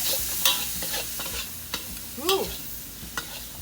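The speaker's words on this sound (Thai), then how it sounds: "หัวกุ้งผัดพริกเผา ผักเผือกอะไรไม่มีเลยครับไม่ แค่นี้ก็สุกได้กินแล้วครับ" Shrimp heads stir-fried with roasted chili paste in a pan, with scattered short scraping and sizzling strokes of stirring, nearby and moderately loud, with no talking.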